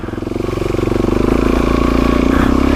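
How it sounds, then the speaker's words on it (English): A dirt bike engine fires up and settles into a loud, close, steady rapid putter, its pulsing idle beat growing slightly stronger over a few seconds. "you gotta actually turn the bike on"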